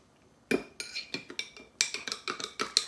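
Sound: stirring Italian salad dressing in a mason jar

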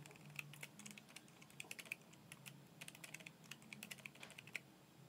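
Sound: typing on a keyboard connected to a phone via OTG

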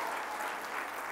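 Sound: church congregation clapping hands

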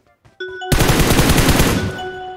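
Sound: gunfire in video game PUBG Mobile

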